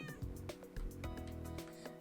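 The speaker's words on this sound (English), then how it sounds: "Oh, kitty cat!" A cartoonish cat meows in a video game over a busy background of game music, giving a few short, bright mewing calls close up.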